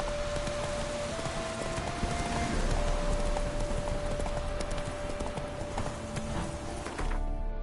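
Geralt's horse Roach trotting in The Witcher 3, a busy run of hoofbeats over a loud, dense wash of ambient noise, with a faint whinny.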